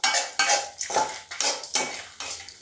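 Grated coconut dry-roasting in a pan for Chettinad chicken gravy, stirred with a metal spatula in about six quick, loud scraping strokes that clatter against the pan, with a faint sizzle between them.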